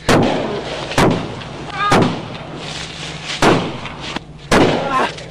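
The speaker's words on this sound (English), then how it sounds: "I'm hit. Shots are fired." Gunshots in a police video game ring out as five loud, sharp blasts spaced about a second apart, each with a booming echoing tail, against low background noise.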